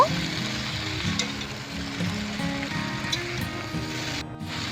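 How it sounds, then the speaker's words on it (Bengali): Mixed vegetables stirred in a frying pan for a Bengali ghonto, a steady low sizzle with faint scraping strokes throughout, close and fairly loud, with no talking. "এবার সবজিগুলো খুব সাবধানে ভালো করে নেড়ে নেব"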